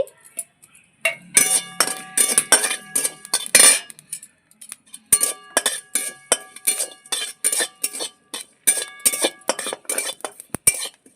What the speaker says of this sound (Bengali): সামান্য একটু জিরে ভেজে নিচ্ছি